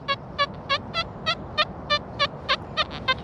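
XP Deus lite metal detector target tone over a piece of foil, a string of about a dozen short, evenly spaced warbling beeps over steady background hiss, no talking.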